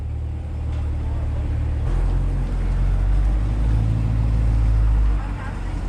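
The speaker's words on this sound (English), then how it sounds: "Watching your happy customers drive out in their brand new car" A new C8 Corvette pulls away from a dealership, its deep engine rumble steady and close, swelling briefly as it drives off, with people talking faintly around it.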